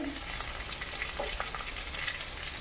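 Potatoes with green chillies frying in a pan give a steady, fairly loud sizzle with scattered scraping stirs over it and no voices.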